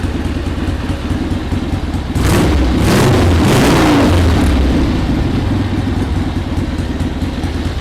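A barn-find Harley-Davidson Iron Head motorcycle idles after 25 years without running, a loud steady low rumble that briefly swells and clatters louder for a couple of seconds before settling back to a constant idle.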